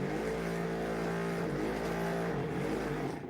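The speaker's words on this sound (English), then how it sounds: "Should we see how loud the shaker is on there?" A paint shaker rattling a small bottle of paint, a dense, continuous motorized buzz with a steady hum, loud and close and unbroken throughout.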